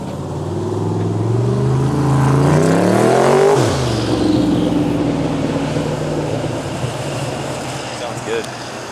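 A Ford Edge with a lumpy cam revs up, climbing to a loud, rough peak before dropping back to a choppy idle, heard close with people talking around it.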